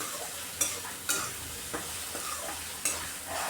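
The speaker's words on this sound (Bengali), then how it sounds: "এভাবে বারবার নাড়িয়ে পেঁয়াজটাকেও লাল লাল করে নিচ্ছি।" Onions fry in oil with chopped green chillies as a spatula stirs them in a pan, with several distinct scraping strokes over a soft, continuous sizzle, close and fairly quiet.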